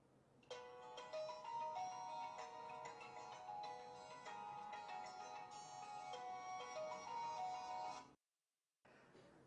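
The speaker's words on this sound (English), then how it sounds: "The alarms and ringtones are filled with soothing sounds of nature too." A melodic electronic ringtone on a Samsung Galaxy S3 chimes in a flowing series of bright notes, fairly quiet, then cuts off briefly before resuming.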